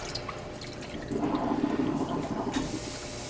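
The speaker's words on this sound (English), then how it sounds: "we're just going to cover these with water just to keep those seals" Water runs and splashes into a pot, filling it to cover canning jar lids, a soft steady pour that grows fuller after the first second.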